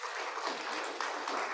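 Audience applause at an agribusiness food security event, a steady wash of many hands clapping that holds at an even level for the whole stretch.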